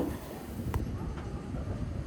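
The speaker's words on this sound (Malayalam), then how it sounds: "ട്രെയിൻ ഇതാ വിജയവാഡ ജംഗ്ഷൻ റെയിൽവേ സ്റ്റേഷനിലേക്ക് എത്തിക്കൊണ്ടിരിക്കുകയാണ്" A train pulling into Vijayawada Junction station, a steady low rumble of rolling stock with a couple of faint metallic clanks, heard from nearby without voices.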